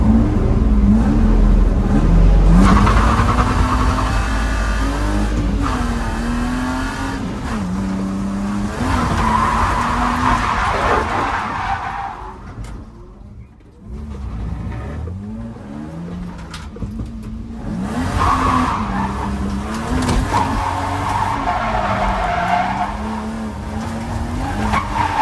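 A drift car at Evergreen Speedway, its coilovers stiffened and front lowered, runs with engine revving up and down and long tire squeals, sliding loud and close through repeated drift passes.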